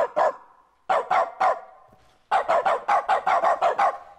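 A dog barks repeatedly in quick bursts, a few spaced yaps followed by a rapid run of barks, loud and close with no talking.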